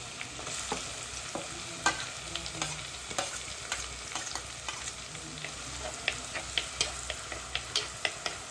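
Shallots frying in oil with ginger and garlic keep up a steady close sizzle, broken by frequent sharp clicks and scrapes of a spoon stirring through the pan.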